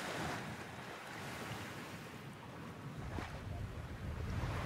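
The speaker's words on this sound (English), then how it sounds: "Just listen to the sound of those waves lapping against the shore." Caribbean sea waves lap against the shore in Antigua, a steady broad wash of surf with gentle swells and some wind noise, fairly quiet and continuous throughout with no clear speech.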